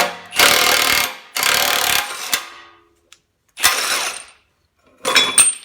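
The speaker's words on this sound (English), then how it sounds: "Then I'm gonna hit it with the impact gun." An impact gun presses out an upper ball joint on a 2006 Toyota Sequoia in four loud, close, hammering bursts of about a second each, separated by brief pauses and a faint click, with no talking.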